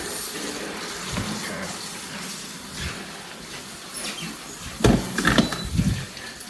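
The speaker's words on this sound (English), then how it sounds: "Some water boiling. And just put in a little bit." Boiling water pours into a pot for butternut squash soup in a few short bursts, splashing louder toward the end, with faint background noise between pours.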